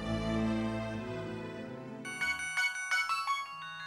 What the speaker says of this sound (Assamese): ধৰক ধৰক, ফোনটোকে ধৰি লওক।